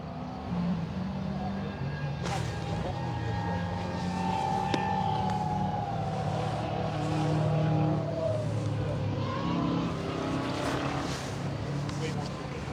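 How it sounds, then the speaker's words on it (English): A Subaru Impreza bug-eye rally car engine roars past at a distance on a rally stage, rising and fading, with people chatting over a steady background rumble. "It's the silver and blue bug-eye. Subaru."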